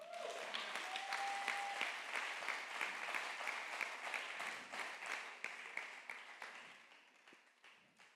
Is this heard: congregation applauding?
yes